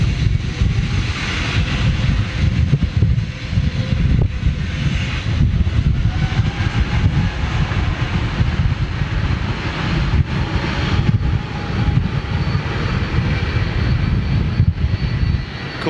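Cathay Pacific Airbus A350 jet engines roar at takeoff thrust, a loud, steady, broadband rumble with a whooshing hiss that holds throughout, heard from outside near the runway.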